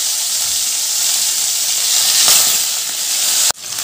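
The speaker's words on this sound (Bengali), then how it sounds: "তেলটা গরম হয়ে গেছে, এবার আমি নুন হলুদ মেখে রাখা ইলিশ মাছগুলো দিয়ে দিলাম।" Hilsa fish pieces rubbed with salt and turmeric sizzle loudly in hot mustard oil, a constant bright frying hiss close up, with a brief clack near the end.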